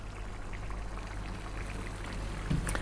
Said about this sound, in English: We're now going to add 1 cup of coconut milk.